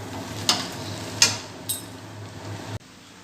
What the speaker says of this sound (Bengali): এবার এটাকে ভালো করে নাড়তে হবে